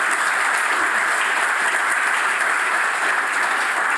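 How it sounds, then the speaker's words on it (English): A lecture audience gives steady applause as speaker Lisa Herzog is welcomed, a dense, even wash of many hands clapping at once, sustained throughout without talk. "Please, a warm applause for Lisa."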